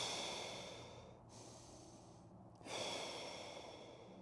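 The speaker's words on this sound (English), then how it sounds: "I'll stay on my tighter side and just do some breathing in that position." Slow, steady breathing while holding a lumbar spine stretch position on the tighter side, soft close airy inhales and exhales separated by short quiet pauses, with no talking.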